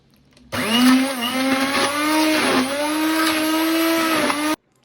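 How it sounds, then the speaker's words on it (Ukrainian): A blender whirs loudly for about four seconds, its motor pitch dipping and recovering as it churns a thick mixture of cooked zucchini, then cuts off abruptly. "ми будемо це все збивати блендером"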